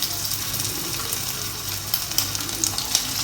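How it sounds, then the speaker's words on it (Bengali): Chicken pieces hiss and sizzle in a little hot oil in a pan for a shallow fry, a steady close crackle with a few sharper pops and no talking. "এবার আমি একটা প্যানে সামান্য তেল দিয়ে একটু গরম করে নেব এবং তার মধ্যে একটা একটা করে চিকেন পিসগুলো"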